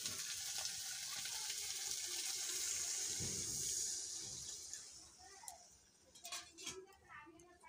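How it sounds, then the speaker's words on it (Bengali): Water pours in a steady rushing stream for about five seconds, then tails off into a few splashes and trickles, with a voice speaking briefly near the end. "জল দিয়ে দিব।"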